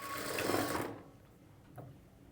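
A sewing machine stitches the original piece of a plain blouse, a brief loud whirring burst of stitching for under a second, then it stops, leaving faint quiet room sound with a small click.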